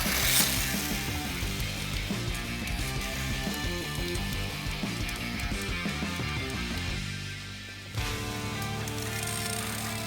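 An Allegro 1:20 RC car runs with a buzzing, whirring electric motor and gear whine that rises and falls with the throttle, briefly dropping off before surging again, close by.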